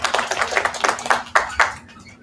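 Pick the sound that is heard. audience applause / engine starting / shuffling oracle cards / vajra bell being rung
audience applause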